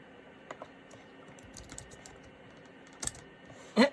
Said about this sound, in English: the keyboard was a piece of work on this machine